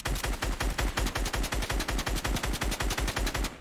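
Automatic weapon fire in the video game Fortnite, with a loud, close, steady burst of rapid evenly spaced shots rattling on without a break.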